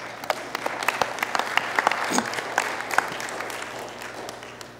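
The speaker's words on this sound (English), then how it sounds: "Give the Lord a hand clap." A church congregation claps together in praise, a steady wash of applause with scattered sharper claps standing out, fairly loud and continuous throughout.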